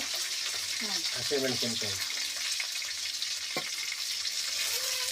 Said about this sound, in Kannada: ಕರಿಬೇವು, ಕರಿಬೇವು, ಬೆಳ್ಳುಳ್ಳಿ, ಸಾಸಿವೆ ಎಲ್ಲ ಚಟ್ಪಟ ಅಂದಮೇಲೆ